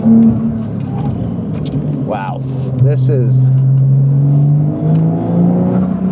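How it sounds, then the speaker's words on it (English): A modded Porsche 992 Carrera S with a valved exhaust and high-flow cats accelerates hard, its engine note climbing and holding in a loud, smooth rising drone. Someone speaks over the sound near the start. "sounds nice with the sole valved exhaust and the high flow cats"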